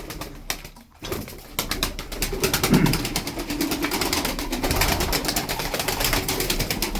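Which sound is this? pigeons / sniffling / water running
pigeons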